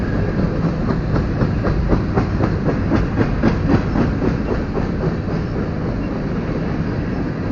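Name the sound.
freight train passing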